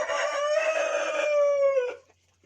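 A rooster in a backyard poultry pen gives one long, loud, drawn-out crow that falls away at the end, heard close and alone with nothing behind it.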